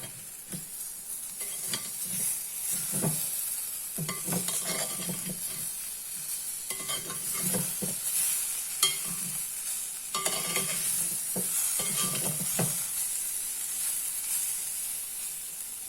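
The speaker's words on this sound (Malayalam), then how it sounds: "നമുക്കൊരു 10-15 മിനിറ്റ് ഇടയ്ക്കിടയ്ക്ക് ഇളക്കി കൊടുക്കണം" Jackfruit seeds fry in a pan with a steady close sizzle, while stirring scrapes through it in repeated bursts over the low hiss; no voices.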